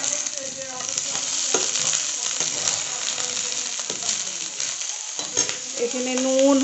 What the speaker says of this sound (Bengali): আমি সজনে ডাঁটা, বেগুন, কাঁচকলা, রাঙা আলু সব দিয়ে দিচ্ছি।